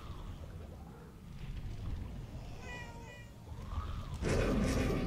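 A cat in the video game Murdered: Soul Suspect lets out a faint, short meow partway through, set against a continuous low, rain-like ambient wash that swells louder near the end.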